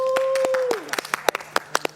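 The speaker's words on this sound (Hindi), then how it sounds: "साकिब भाई की तालियां।" Scattered claps ring out for Saqib during a reality show task, a few sharp hand claps spaced irregularly after a fading tone.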